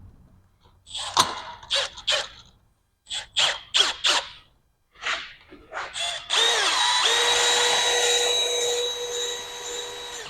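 Cordless drill spinning an engine valve through a short piece of 5/16 fuel hose to lap it against its seat during an engine rebuild; a few short bursts, then a steady close whir with a faint whine.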